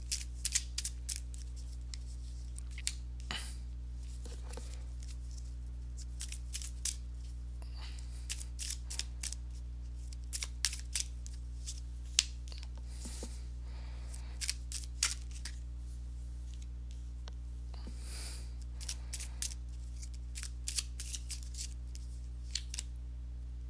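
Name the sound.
tarot cards being laid out during a reading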